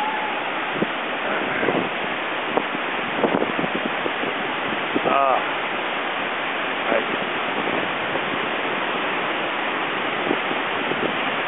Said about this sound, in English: Nice little wind coming off of here. Maybe a 10, 12 mile an hour wind.